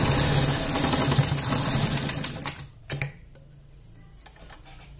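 Sewing machine stitching the seam of a double-strap blouse, running loud and steady for the first few seconds, then stopping, leaving quiet room tone with a few faint clicks and knocks.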